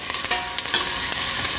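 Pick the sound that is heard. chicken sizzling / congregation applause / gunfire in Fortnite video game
chicken sizzling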